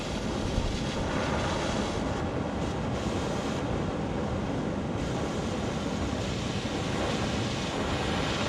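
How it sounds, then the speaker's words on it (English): Oxy-acetylene torch flame heating a seized engine, a steady broadband roar held close and loud for the whole stretch with no break. "Yeah, that's an Oxy-Acetylene torch."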